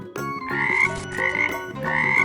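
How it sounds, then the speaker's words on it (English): Frog croaking sounds set within a children's animal-sounds nursery song, with rhythmic musical backing running continuously under the calls for about two seconds. "What sound does a frog make? Ribbit, ribbit, ribbit."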